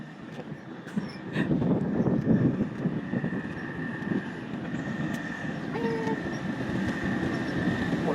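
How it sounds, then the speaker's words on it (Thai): A train rumbles steadily across a railway bridge in Kanchanaburi at close range, a continuous heavy roar of wheels on track with faint squeals and metallic clanks. "มาแล้วรถไฟมา"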